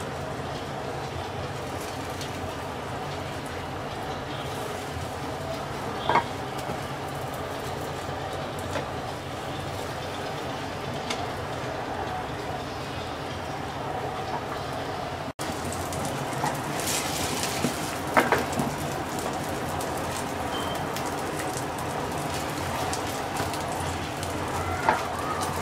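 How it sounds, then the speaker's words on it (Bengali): Eggplant slices frying uncovered over medium-low heat in a pan give a loud, steady sizzle that sounds like rain, with occasional sharper pops and crackles. "এবার ঢাকনা ছাড়া মিডিয়াম লো আছে বেগুনগুলোকে ভাজবো।"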